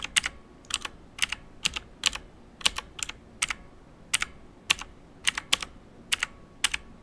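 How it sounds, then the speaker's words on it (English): Keys on a computer keyboard clack in quick irregular bursts, about twenty sharp close clicks spread over several seconds with a quiet background. "Sorry, I keep clicking buttons."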